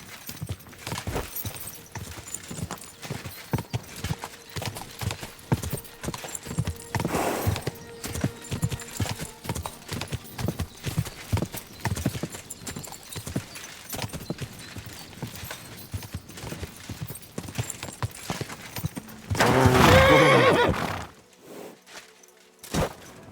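Horse hooves clip-clop at a steady walk in Kingdom Come Deliverance II, close and rhythmic for most of the stretch, then a loud neigh breaks out near the end before a brief quiet.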